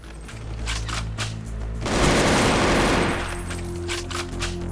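Automatic AK rifle gunfire from a Soviet-themed Doom mod video game, a sustained burst of rapid shots that swells louder in the middle over steady game background sound.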